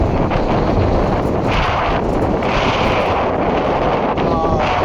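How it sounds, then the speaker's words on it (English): Strong San Francisco wind buffets the microphone in a constant loud, low rumble that drowns out everything else for several seconds. "it's so goddamn windy"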